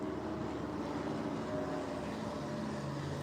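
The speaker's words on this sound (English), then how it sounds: "I hear a plane overhead, but I don't see it." A plane passes overhead out of sight, a steady broadband engine drone that holds at an even loudness throughout, with no talk over it.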